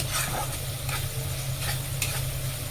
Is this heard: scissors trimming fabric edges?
no